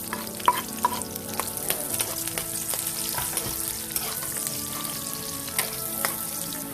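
Garlic and onion sizzle in hot oil in a pan for chicken adobo, a steady crackling fry broken by a few sharp spatula taps and stirring clatters, close and unaccompanied by speech.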